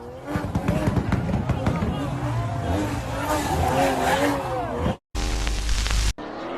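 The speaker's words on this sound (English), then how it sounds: "You drift with the Supra and everyone will follow." A Toyota Supra drifts with squealing tires and a roaring engine, a loud continuous jumble of skidding and engine noise, likely with voices mixed in, followed by abrupt cuts to short engine bursts.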